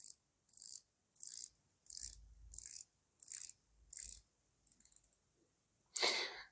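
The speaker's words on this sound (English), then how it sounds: "So let's talk about the bezel action and the crown action of the watch." Bezel of a Seiko SRPL11K watch being turned, about nine crisp ratcheting click bursts in a regular rhythm, close and isolated, ending with a brief handling rustle.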